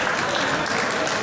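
A crowd applauds the fighters after a kickboxing bout, with brief, dense clapping that stays loud and even throughout.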